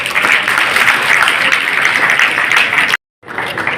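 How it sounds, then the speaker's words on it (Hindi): Dense, steady applause for students at an award ceremony in Nekiram College, with prizes handed out by the education minister. The clapping fills the room for about three seconds, cuts off sharply, then resumes. "तालियां बजती रहे"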